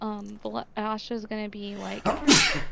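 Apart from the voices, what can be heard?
sneeze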